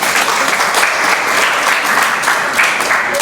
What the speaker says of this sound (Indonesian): Tepuk tangan dulu buat Mbak Sandut.